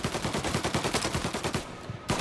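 A Tommy gun rattles off a sustained rapid burst in Mafia Definitive Edition, steady pulsing shots for over a second, a brief stop, then firing resumes.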